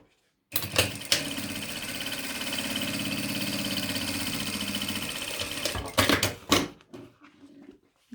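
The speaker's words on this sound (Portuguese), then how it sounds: "agora eu faço uma outra costura aqui na beiradinha de cima" A sewing machine runs a steady, continuous seam along the top edge of a fabric medicine holder for about five seconds, then stops and gives a few short stuttering bursts with handling clicks nearby.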